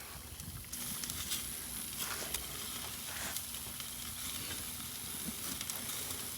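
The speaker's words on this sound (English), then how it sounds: "Gonna let that one sear for a minute." Cajun barbecue pork steak searing on an Old Smokey grill gives off a steady, close sizzle with soft hissing and occasional pops, continuous throughout.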